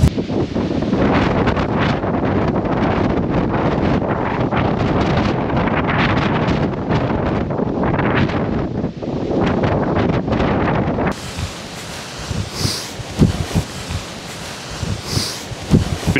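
Strong storm winds of Storm Bert buffet tents pitched outdoors, roaring loud and continuous against the microphone, then easing into gustier rustling and flapping toward the end.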